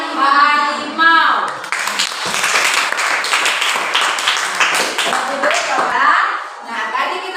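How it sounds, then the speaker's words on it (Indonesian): Applause from a class of students for a discussion group, a dense sustained patter of many hands clapping nearby, with children's voices and light chatter mixed through it. "berikan tepuk tangan untuk teman kalian dari kelompok"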